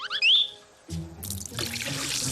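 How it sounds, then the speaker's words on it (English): Cherry syrup pours into a punch bowl with a close liquid splash and gurgle that follows a brief high chime, running on steadily to the end. "Now, for a tangy touch of color, add some cherry syrup."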